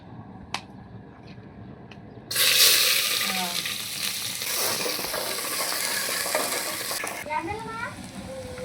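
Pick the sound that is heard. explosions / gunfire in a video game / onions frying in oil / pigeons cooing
onions frying in oil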